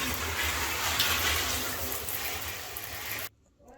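Water pours steadily onto the potting soil of a houseplant, a close, continuous splashing trickle that cuts off abruptly near the end.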